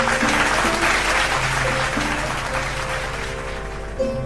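An audience at a stage event on trees and the environment claps steadily to welcome a speaker, a dense, even applause that gradually tapers.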